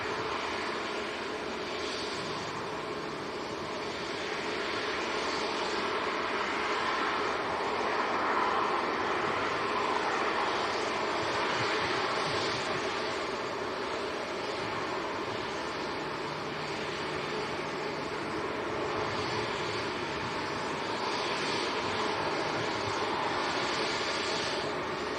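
A KLM airliner departs Manchester Airport for Amsterdam as a steady, distant broadband roar of jet engines that holds level for the whole stretch, with no voices.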